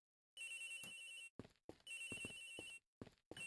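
An electronic phone ringtone from the Ace Attorney Investigations video game rings in several clear, repeating bursts separated by short silent gaps, with no talking.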